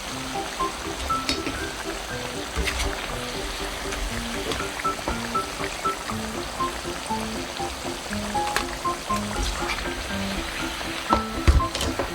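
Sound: sweet potatoes frying in a pan

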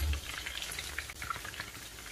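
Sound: soya chunk pakoras frying in oil

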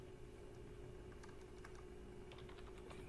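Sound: typing a password on a computer keyboard

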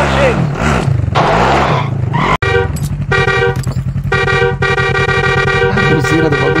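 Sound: vehicle horn honking in Warzone video game

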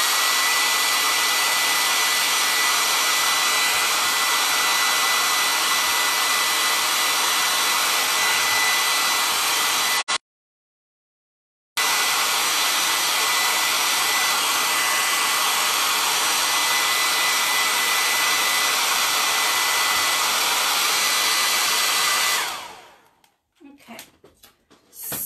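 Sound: hair dryer drying candy apple red paint on wood

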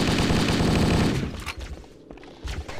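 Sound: rifle gunfire in the video game Halo: Combat Evolved

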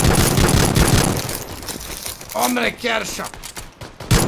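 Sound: gunfire in a video game (Friday the 13th / Dead by Daylight)

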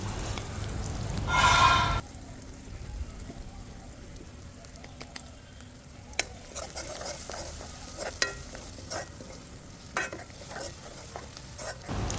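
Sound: asafoetida and chopped onion sizzling in hot oil

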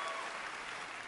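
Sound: audience applause

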